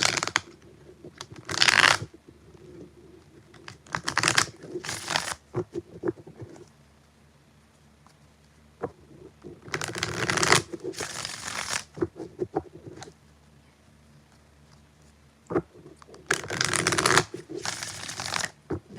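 Tarot cards shuffled in several separate bursts of crisp riffling and snapping, with quiet pauses between each round.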